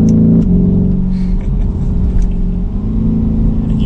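A 2020–2023 Lamborghini Urus in Corsa performance mode gives a loud, steady deep engine and exhaust rumble from inside the car, holding a constant drone with slight shifts in pitch.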